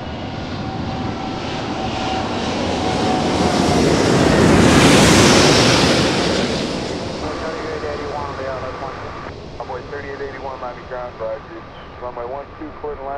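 An Airbus A380 airliner comes in for a hard landing at Miami, its engine roar and wind rush swelling loud to a peak then easing, with voices talking over the fading rumble afterward.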